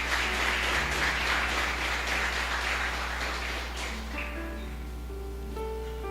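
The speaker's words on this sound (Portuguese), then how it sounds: "aplauda o nome do Senhor Jesus" A church congregation applauding, a steady dense wash of clapping that fades into sustained music with a low hum beneath.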